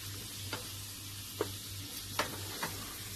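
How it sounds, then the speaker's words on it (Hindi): Minced meat (keema) frying in a pan over medium-low heat gives a steady close sizzle, broken by a few soft scraping stirs and a low hum beneath. "अच्छी तरह से फ्राई हो गया और बहुत मैंने तेज भी नहीं रखी और मीडियम लो हीट पे मैंने इसको फ्राई किया है।"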